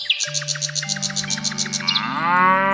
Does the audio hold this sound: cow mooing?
yes